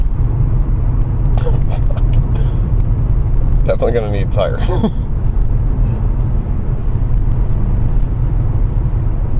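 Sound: Whipple supercharged car engine driving

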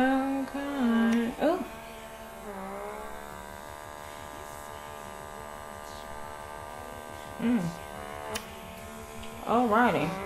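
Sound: pore vacuum suction device running on face

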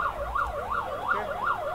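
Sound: ambulance siren passing through crowd

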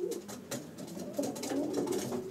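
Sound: racing pigeons cooing in a loft

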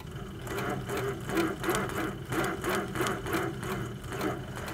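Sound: HQ Sweet Sixteen quilting sewing machine stitching

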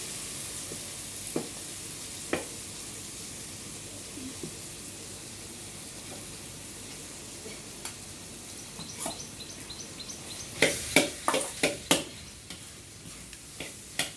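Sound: paneer frying in roasted masala

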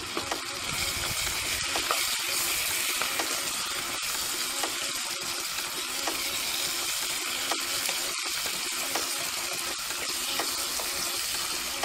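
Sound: stir-frying Chinese kale stems in pan

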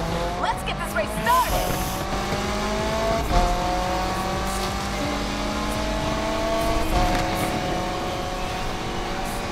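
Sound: Mitsubishi Lancer drifting in video game Need for Speed Unbound

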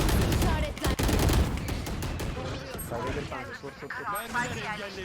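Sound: gunfire in the video game Valorant

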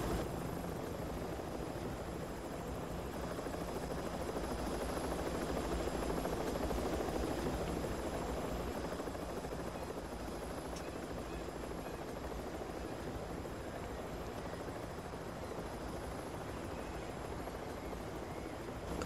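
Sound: helicopter in a video game

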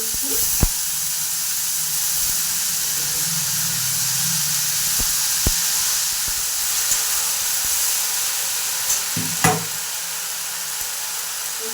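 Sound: tomatoes, cauliflower and green chillies sizzling in a hot kadai

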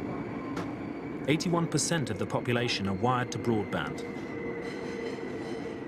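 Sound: subway train in Seoul

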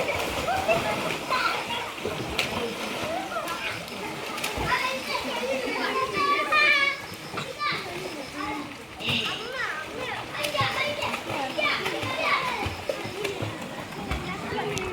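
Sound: children splashing and playing in swimming water

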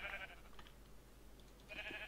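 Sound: sheep bleating in video game Minecraft

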